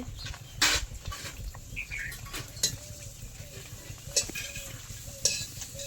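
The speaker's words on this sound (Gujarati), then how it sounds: "તો પૂરી તળવા છે" Puris fry in hot oil, a low steady sizzle under sharp clinks of a metal utensil against a pan that come at irregular intervals, close by, with no talking.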